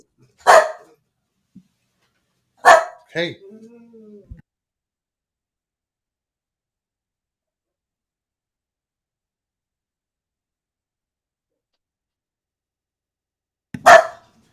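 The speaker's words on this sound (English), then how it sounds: "My dogs are going nuts." A few sharp dog barks, spaced apart with long silences between, plus a short spoken word partway through.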